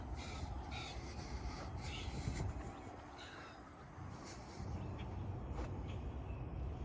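Crows caw through a Florida food forest of mostly mango trees, several harsh calls spread across a steady outdoor background, moderately loud and fairly close.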